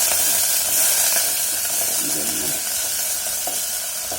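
Garlic fries in hot oil, a loud, close, continuous crackling sizzle with a steady hiss that barely changes over a few seconds, and a few faint stirring touches beneath it, with no voices.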